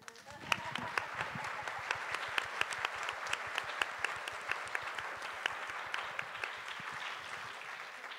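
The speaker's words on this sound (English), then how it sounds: "I wanted, please, to make a big applause." Applause at a professional day event in Poland: a crowd claps steadily and fairly evenly for about eight seconds, with sharper individual claps standing out and the sound thinning at the very end.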